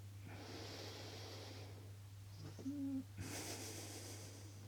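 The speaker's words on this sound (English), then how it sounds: "So I will just do a few breaths." A few slow, deep breaths during breathwork meditation, faint and close, with a soft inhale, a brief snort-like catch, then a breathy exhale.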